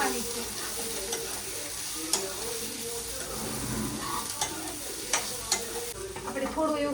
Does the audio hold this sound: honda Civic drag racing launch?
no